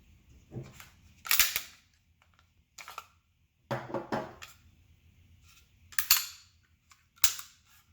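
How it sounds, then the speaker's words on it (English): Two Sig Sauer P320 RX 9mm pistols are handled and checked to be unloaded, with sharp metallic clicks and clacks from slides and parts, several distinct close snaps separated by quiet gaps and no talking. "let's verify that both these pistols are unloaded."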